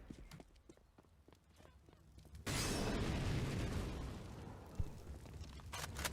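Grenades burst in Counter-Strike on the Inferno map, a sudden loud broadband blast at mid-clip followed by a sustained rumble and a sharp pop, over quieter ticking game noise and voices commenting.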